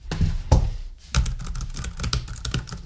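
Typing on an older computer keyboard with a clean key action gives close, loud, distinct clacks in an uneven rhythm, some strokes heavier and thunkier than others, with no voices.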